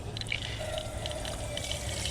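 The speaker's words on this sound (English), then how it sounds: "I'm gonna fill this up with water." Water runs steadily into the metal water pan of a Weber Smokey Mountain smoker, a quiet continuous trickle and splash.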